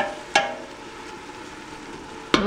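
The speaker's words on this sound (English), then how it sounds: "We're going to turn this on low. And we're just going to simmer for a while." Chicken marsala sauce simmering gently on low heat in a pan, a steady soft bubbling hiss with two brief louder clinks of a utensil.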